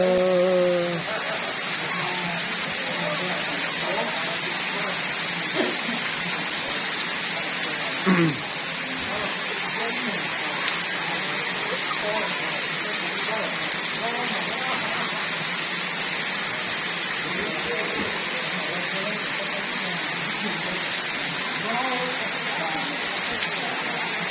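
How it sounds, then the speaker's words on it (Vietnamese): Heavy rain pours steadily across the whole stretch in a rural home village, a dense, even hiss that never lets up, with a voice speaking intermittently over it. "hôm nay mưa quá nhá"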